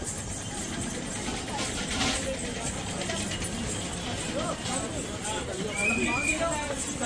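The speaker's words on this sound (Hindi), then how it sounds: "ये हमारा घोड़ा आता जी" Horse hooves clip-clop along the Vaishno Devi pilgrimage path in a steady, moderately near rhythm, mixed with a busy outdoor background as a person talks over the sound.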